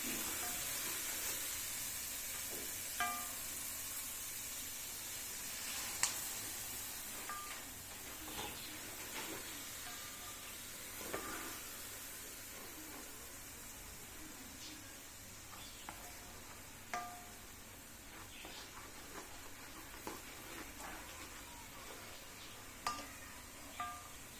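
A faint, steady sizzle of a tempering of spices in hot oil in a wok on a gas stove, for a lentil and potato dish. It runs as a soft hiss with scattered small pops and crackles throughout.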